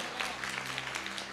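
A church congregation claps loudly during a Telugu sermon, a dense continuous burst of many hands that stays at an even level for the whole stretch.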